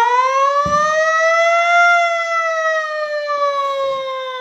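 A person imitates a siren with a voice, holding a steady, drawn-out wail that slowly rises and falls across the whole stretch. It sits close and fairly loud, with a brief bump of background noise near the start.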